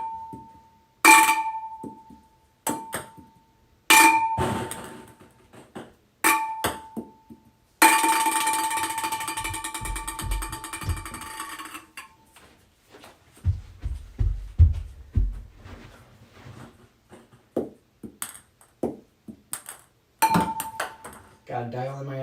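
A ping pong ball is tossed at a glass fishbowl, giving sharp ringing pings off the glass repeated many times with irregular spacing, plus bouncing clatter and a burst of rattling mid-clip; a voice speaks between some of the tosses.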